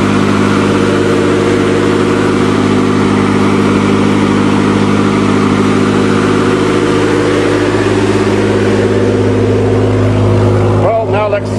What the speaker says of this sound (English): the 3-liter Nissan motor is one of the best motors ever made